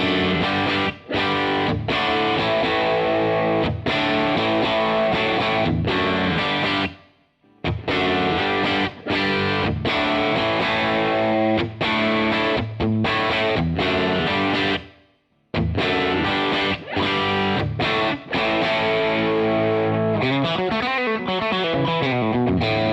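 Telecaster electric guitar on the bridge pickup through a Divided By 13 RSA23 amp plays a sustained, driven chordal passage, loud and continuous with two brief pauses, alone without talk.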